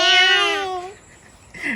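A voice imitates a cat's meow, a single drawn-out cry of nearly a second, followed by quiet and a short vocal sound at the end.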